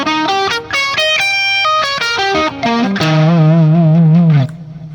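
A distorted electric guitar plays a quick minor pentatonic lick high on the neck. Staccato notes climb and fall, then end on a long sustained note with vibrato, loud and close with effects.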